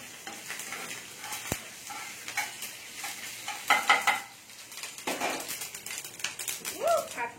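Mustard seeds, chopped green chillies and sesame seeds lightly frying in hot oil, giving a soft, steady crackling sizzle with occasional stirring scrapes and utensil clinks close by.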